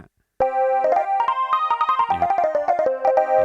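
Tone 0C05 on a Casio MA-220 electronic keyboard starts after brief silence, a bright, reedy melody of short repeated notes in a lively phrase, played loud and alone.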